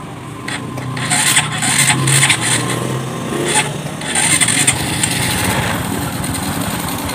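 A Honda Wave 125 motorcycle engine idles after a piston ring change, giving a steady, moderately loud mechanical drone with some rattling and scraping noises layered on top throughout.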